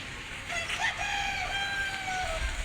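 A rooster crows once, clear and fairly close, over light drizzle in Chottogram city, a drawn-out call rising then trailing off against soft background noise.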